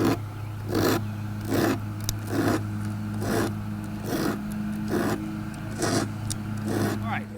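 Rhythmic scraping of a magnetic algae scraper dragged back and forth across aquarium glass, about seven broad gritty strokes in a steady cadence over a constant low hum, close and fairly loud.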